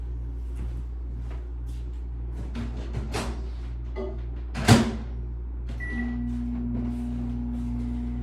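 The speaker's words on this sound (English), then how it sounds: "So put it in the microwave for about 4 minutes." A microwave oven hums steadily with a low drone, punctuated by a few clicks and clunks nearby, and a louder knock midway.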